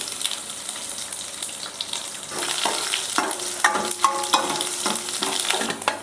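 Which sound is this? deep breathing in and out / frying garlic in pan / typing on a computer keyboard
frying garlic in pan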